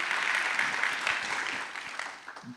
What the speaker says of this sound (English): We have an applause for them.